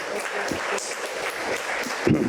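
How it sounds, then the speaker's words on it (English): Audience applause at a university endowment launch event, a fairly quiet, even patter of clapping with a brief louder thump near the end. "Please give them a big round of applause."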